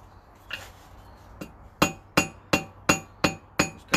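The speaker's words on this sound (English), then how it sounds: "the anvil acts as one side, the hammer acts as the other." Blacksmith's hammer ringing on metal over an anvil while rounding a fire striker: a couple of softer taps, then a steady run of six sharp, bright, ringing strikes at an even rhythm, close and loud.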